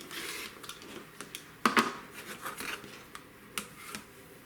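Quilting fabric being cut for a quilt block, soft scraping and crisp cutting strokes close by, with a louder burst midway and light rustling between, quiet overall.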